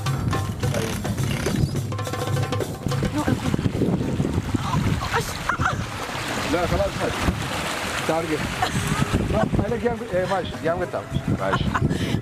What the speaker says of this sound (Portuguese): Agora o vento chegou pra valer